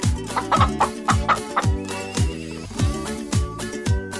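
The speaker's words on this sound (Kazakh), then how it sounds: "тауық" A domestic hen clucks in short repeated bursts, set against a steady rhythmic music track with a thumping beat.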